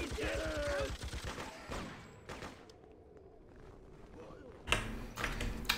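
Mounted machine gun firing in the Freedom Fighters video game, rapid rattling bursts up front that break off into a quieter lull, then a fresh loud burst near the end, with game noise around it.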